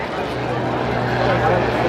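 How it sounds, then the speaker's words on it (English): Pitts Special aerobatic plane takes off at a 2004 air show in Gary, Indiana, its steady propeller engine drone loud and continuous under an announcer's voice. "We see Mr. Ed Hamill taking off in his pit special"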